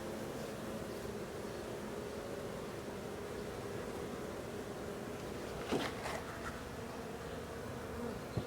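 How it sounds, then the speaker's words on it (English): Honeybees buzz steadily at an open eight-frame hive during installation of a nucleus colony, a close, continuous drone with a brief louder rustle partway through and no talking. "There's a honeybee reacting to a hive beetle right there."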